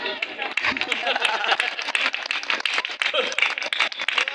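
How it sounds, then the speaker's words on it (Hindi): Listeners at a kavi sammelan poetry gathering outside a Shiva temple in Dungarpur, Rajasthan clap vigorously and unevenly for several seconds, with voices mixed in beneath the claps. "तालियां जोरदार"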